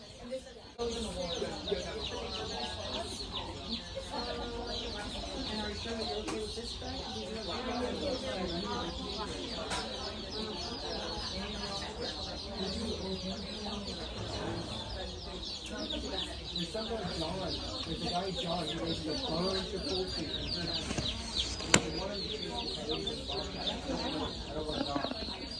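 Baby chicks and chickens cluck and cheep steadily at a feed store, a busy continuous chorus of fowl with a constant indoor background hum throughout.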